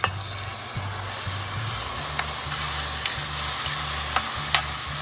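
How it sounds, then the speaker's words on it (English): Tomatoes and onions fry in a pan with a steady close sizzle, punctuated by a few sharp utensil taps and scrapes, over a low background hum. "And fry until these tomatoes are soft."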